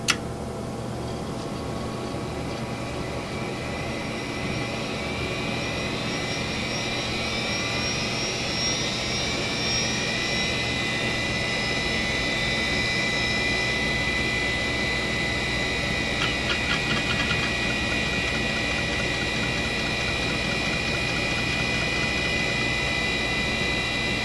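An old 386 computer runs with a dense, steady whine and whirring hum from its power supply, high-pitched tones drifting slightly and faint ticking appearing near the end, close and continuous without speech.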